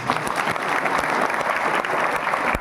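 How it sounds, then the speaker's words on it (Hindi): Audience applause at a Marathi tribal rights rally in Junnar, a steady dense wash of clapping from a crowd that holds strongly for the whole stretch without voices standing out. "तालियां"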